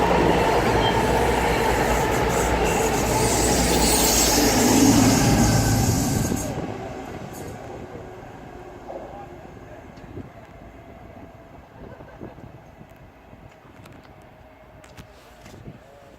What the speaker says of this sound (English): Passing through now is a Sheffield bound service via Leicester, formed of